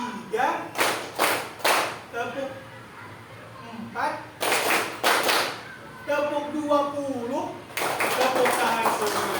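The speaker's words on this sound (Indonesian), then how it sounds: "Tepuk 1, tepuk 2, tepuk 3, tepuk 4, tepuk 5" Sharp bursts of hand clapping from a group of children, in quick clusters of claps separated by a teacher's spoken counting, repeated several times in a classroom.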